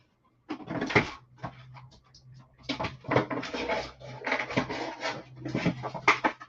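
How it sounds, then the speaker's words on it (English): Indoors, a dog pants and moves about, with irregular breathy bursts mixed with soft knocks and scuffs over a faint low hum. "I guess you can imagine that's my dog in the background."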